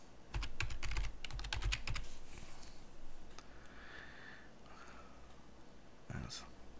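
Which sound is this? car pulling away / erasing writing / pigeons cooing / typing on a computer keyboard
typing on a computer keyboard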